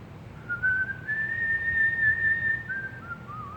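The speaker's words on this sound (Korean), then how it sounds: "휘파람을 불었습니다" A person whistles a hymn melody alone, giving one clear sustained tune at moderate volume over a quiet room background.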